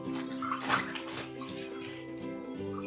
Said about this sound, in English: When we take the pencil, only the water is coming out.